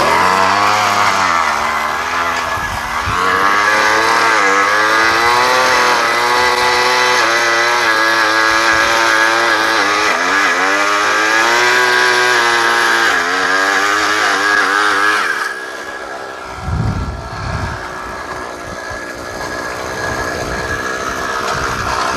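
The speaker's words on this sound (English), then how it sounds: "now we're ready to start drilling" A powered drill bores a hole while prospecting for placer gold: a loud, close engine drone with a wavering pitch runs for about fifteen seconds, then cuts out, leaving quieter knocks and thuds.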